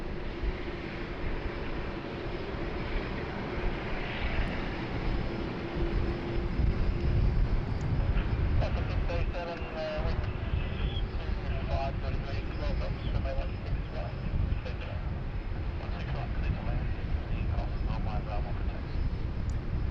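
A passenger aircraft takes off at Sydney Airport, a steady broad jet roar heard from a distance that swells slightly and holds. Someone talks over it throughout.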